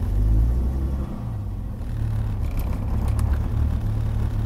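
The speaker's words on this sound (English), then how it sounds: "So if I rev it, the RPM goes up." Car engine revs briefly, a close low rumble that swells and settles back toward a steady idle, no talk.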